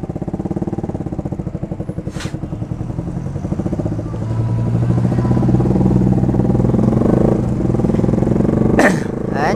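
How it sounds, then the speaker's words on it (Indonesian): A motorcycle with a loud brong aftermarket exhaust fitted with a dB killer, idling with a steady pulsing putter and then revving briefly higher before settling again, close and loud. "Knalpot pakai DB killer, Jo."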